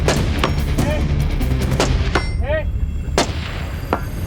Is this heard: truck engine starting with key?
no